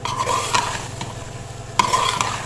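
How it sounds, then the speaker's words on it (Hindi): Potatoes and peas frying in a pan for aloo matar chicken, a continuous close sizzle with a few brisk utensil scrapes and clicks, no voices. "अब इनको अच्छे से भून लेंगे।"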